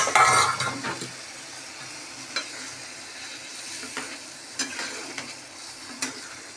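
A paste of ground cumin, coriander powder, Kashmiri chilli powder and turmeric fries in a pan with a low sizzle, punctuated by several light scrapes and clinks of a spoon against the metal.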